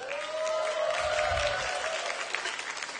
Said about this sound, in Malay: Tepukan untuk adik ni.